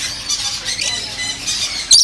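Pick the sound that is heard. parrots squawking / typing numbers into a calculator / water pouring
parrots squawking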